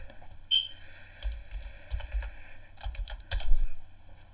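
Password being typed on a computer keyboard while logging into an Amazon seller account, a quick run of close, crisp key taps with a few louder strokes near the end.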